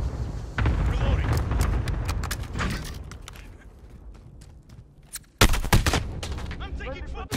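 Rapid bursts of gunfire from a Call of Duty: Modern Warfare match, loud and dense at the start, thinning to scattered shots, then a sharp loud burst near the end with clattering follow-up fire.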